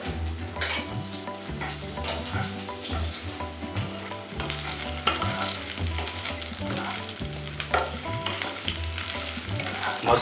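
Stuffed kantoli (spiny gourd) sautéing in a pan, a dense continuous sizzle with rhythmic stirring and spatula scrapes throughout, close and fairly loud, no voices.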